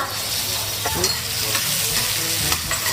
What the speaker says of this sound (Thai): เราต้องผัดให้หอมที่สุดเลยค่ะผัดนาน ผัดด้วยความร้อนที่กลางดีนะคะ